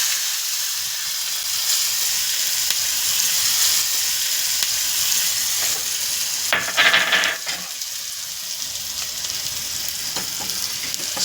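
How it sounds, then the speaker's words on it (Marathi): Green chilies stirred into hot oil for vada pav give a steady loud sizzle and frying hiss, with a brief burst of sharper spattering crackle partway through as they go in. "ही मिरची याच्यामध्ये हलवत आहोत छानपैकी"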